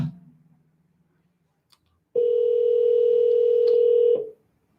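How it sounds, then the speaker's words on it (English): A telephone ringback tone on an outgoing cold call: one long steady electronic ring burst of about two seconds sounds alone, following faint low noise and a near-silent gap. "Let it ring about another 4 or 5 times."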